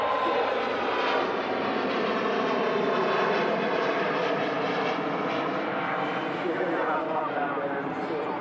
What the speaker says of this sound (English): Mega departure there of the Singapore Airbus A350.